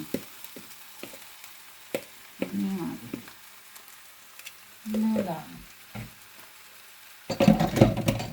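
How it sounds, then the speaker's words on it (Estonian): Meat frying in a pan on a home stove, soft intermittent sizzling bursts between quiet stretches, with brief speech and a louder burst of frying at the end. "ma panen nad siia peale ja hakkan neid siin praadima"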